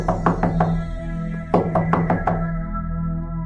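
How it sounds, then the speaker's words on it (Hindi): Knocking on a door as a horror story sound effect, two bursts of rapid knuckle raps, four or five knocks each, over a low sustained eerie drone. "कि तभी दरवाजा खटखटाने की आवाज आती है।"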